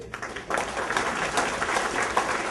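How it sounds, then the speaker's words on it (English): Applause from an audience at a Fairfax County Republican Party gathering, steady dense clapping sustained throughout, moderately loud and without talk. "Another round of applause"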